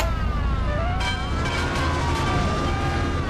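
A wailing police siren during a car chase in the Mafia video game rises and falls over a loud, constant engine roar, heard up close without speech.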